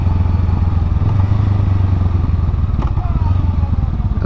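Motorcycle engine running steadily while riding, a loud close droning rumble with shifting revs and a few faint clatters, no talk.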